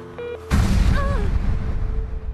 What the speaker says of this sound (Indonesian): sebuah bom tiba-tiba meledak.